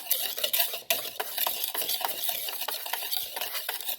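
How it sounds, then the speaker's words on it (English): Dry ingredients for strawberry pancakes, sugar, baking soda, baking powder and salt, being whisked in a bowl, a steady quick scraping and clinking of the whisk against the sides, close and continuous with no talk. "our sugar, our baking soda, our baking powder, our salt, and then we want to whisk those"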